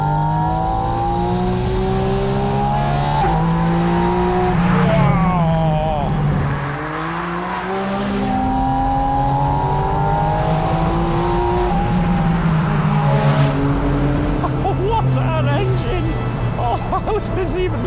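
A Porsche 718 Spyder RS sports car engine revs and pulls hard while driving, its rising and falling pitch sweeping through gear changes under steady loud drone, with a voice talking over parts of the run.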